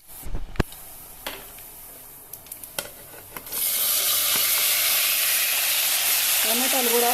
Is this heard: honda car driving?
no